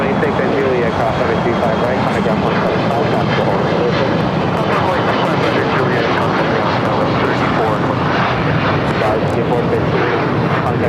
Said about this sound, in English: Taking a look at the Qantas A330.